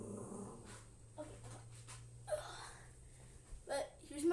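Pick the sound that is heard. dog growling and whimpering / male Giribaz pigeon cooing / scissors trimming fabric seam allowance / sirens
dog growling and whimpering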